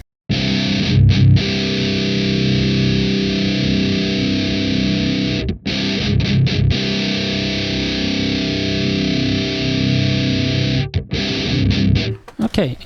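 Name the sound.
guitar through This Heavy Earth Flesh Rot amp sim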